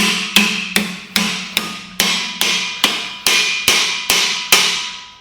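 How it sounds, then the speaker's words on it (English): About a dozen evenly spaced hammer strikes ring out on metal, each sharp blow followed by a short decaying metallic ring, close and loud. "I can hear it transferring its ring right into the base plate"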